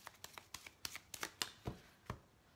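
Lenormand fortune-telling cards flicking and slapping as they are shuffled and laid down, a dozen crisp separate snaps in an uneven rhythm, close and fairly quiet with no voice.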